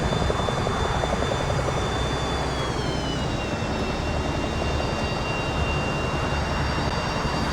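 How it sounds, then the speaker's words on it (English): An Mi-8 helicopter flies a solo air show demonstration at Sochi in 2021, its loud, continuous rotor and engine roar holding steady throughout with a faint high whine drifting slightly in pitch. "he is going to take this Mi-8 to the extreme, folks"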